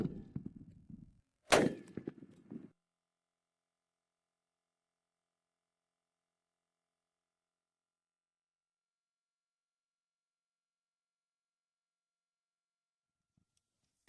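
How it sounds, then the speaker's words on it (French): .50 BMG armor-piercing incendiary tracer rounds fired at a six-cylinder engine block: one sharp, loud gunshot crack with a short ringing tail, following a faint rumble, then long silence. "Munitions perforantes, incendiaires et traçantes contre 6 cylindres."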